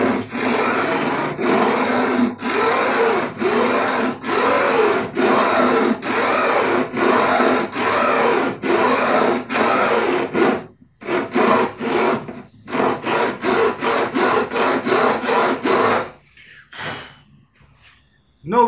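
Fret ends on a guitar neck cut with a beveled block slid along each fret, a regular series of loud, close rasping strokes, with a brief pause and then quicker strokes before it stops.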